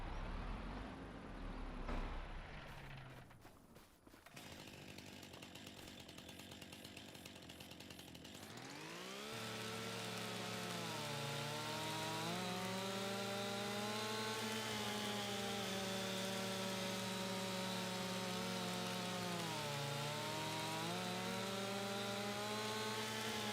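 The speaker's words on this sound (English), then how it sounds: "I think I could cut that down with the thingy-majig. The mulcher. Stump grinder, mulcher." Stump grinder mulcher cutting a tree in Farming Simulator 25: a loud, sustained engine-driven whine with a rising tone after an earlier lower rumble, continuous and close, no talking.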